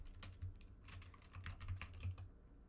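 Rapid, steady typing on a computer keyboard while coding a multiplayer game login in Unity, close and fairly quiet, with irregular clusters of clicks and no talking.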